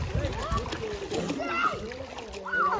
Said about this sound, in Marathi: सानू थोडी थोडी स्विमिंग शिकत आहे